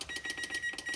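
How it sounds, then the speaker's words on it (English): A kitchen timer set while cookies bake, giving a quick run of evenly spaced short electronic beeps, about eight in one second, clear and close with no talking. "A very inconvenient timer"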